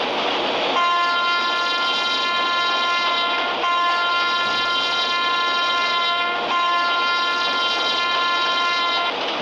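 In a train video game, a WAP-7 electric locomotive rolls along while its horn blares in one long sustained blast over the steady rumble of the train, loud and close.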